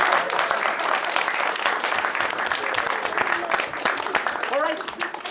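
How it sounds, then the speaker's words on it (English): An audience claps steadily and loudly throughout, a dense, even wash of applause that thins slightly toward the end. "Let's give them a big round of applause."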